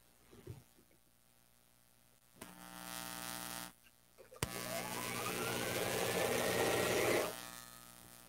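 A sewing machine stitches patchwork in two bursts, a short run and then a longer steady buzzing run that stops automatically, close by and fairly quiet, with a few clicks in between.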